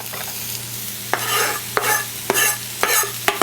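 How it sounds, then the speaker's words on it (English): Zucchini noodles and bacon sizzle in a pan while being stirred, with about six sharp scraping strokes in an uneven rhythm over a steady, close frying hiss. "So now I'm going to add in my zucchini noodles. Like that. Then also I'm going to add in my bacon as well."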